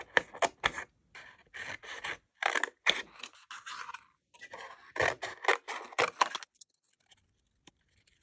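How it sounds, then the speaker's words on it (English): Scissors fussy-cut paper images for scrapbook embellishments in close, crisp bursts of short snips and scraping cuts with brief pauses between them, fading out near the end with no talk. "it's simply a case of fussy cutting out your images."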